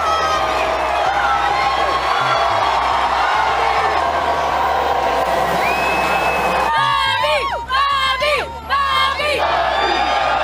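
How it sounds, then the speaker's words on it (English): A large crowd at a basketball game in an arena roars and cheers continuously, with loud shouts and whoops rising toward the end over a constant low rumble of the venue. "When you hear the crowd roaring"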